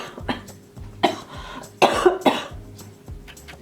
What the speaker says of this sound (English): It's that post-flu cough hanging on.